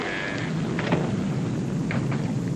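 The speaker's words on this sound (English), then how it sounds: "The rain that's falling down" Steady rain pours down with a deep rumble of thunder rolling underneath, continuous and fairly close.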